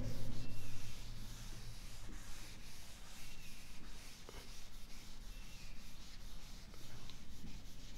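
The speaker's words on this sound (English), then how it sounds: "let me rub the board" A classroom board being rubbed clean, a continuous dry scrubbing and brushing sound in steady strokes, close and moderately loud for several seconds with no talk.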